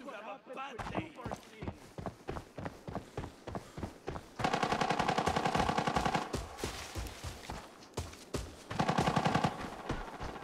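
Rapid automatic gunfire in the shooter Arena Breakout, with dense bursts of repeated shots in a steady rhythm that swell louder in long sustained volleys, mixed over game sounds.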